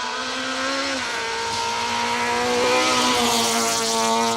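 A 1600 rally car races by on a dusty forest stage of the 2023 Kielder Forest Rally, its engine a loud, sustained high-pitched drone that swells slightly as it passes close by.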